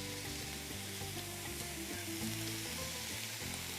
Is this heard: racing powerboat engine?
no